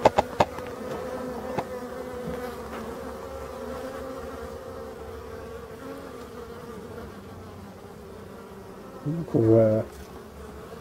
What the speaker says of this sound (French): quelques abeilles qui rentrent du pollen